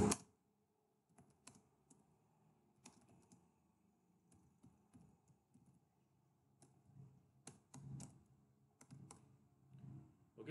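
Python code being typed on a computer keyboard, scattered, soft key clicks in irregular bursts over about ten seconds against a very quiet room, no talking.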